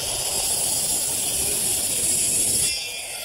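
A power saw cutting through wood, a loud continuous rushing whine that holds steady before easing off abruptly near the end.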